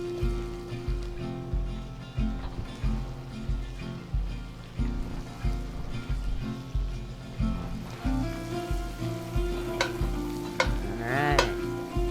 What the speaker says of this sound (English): we're going to get these mushrooms in here.